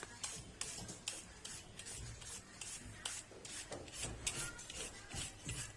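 Green papaya is scraped into shreds for papaya salad, a quiet rhythmic rasping of repeated strokes at a steady pace, close but faint.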